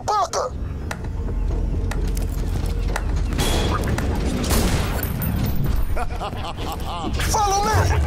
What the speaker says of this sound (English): He's using mortars! Oh, crap!